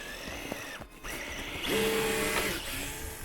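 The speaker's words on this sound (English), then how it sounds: "By crawl, of course, I mean full power. Because she chooches with the brushless system." A Traxxas TRX4 Sport RC crawler with a Traxx brushless system runs at full power on tracks, its electric motor whining in steady rising and falling bursts, close and fairly quiet, with no talk.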